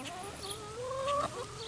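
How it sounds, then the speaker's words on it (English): Laying hens on a small hobby farm cluck and murmur softly at close range, a few drawn-out calls rising over a steady farmyard background with no talking. "These are our laying hens that we have right now."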